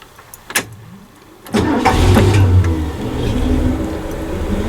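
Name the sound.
car engine restarting hot and idling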